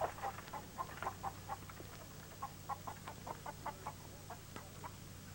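Chickens cluck in a steady string of short, bright calls, some doubled, spread evenly across the stretch at moderate distance over a low background hum.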